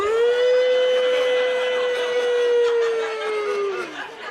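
A voice imitates a wailing air raid siren to mimic snoring, one long sustained tone that holds steady, then dips and fades out near the end.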